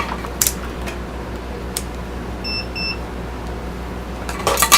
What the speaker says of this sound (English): now if we test it with the multimeter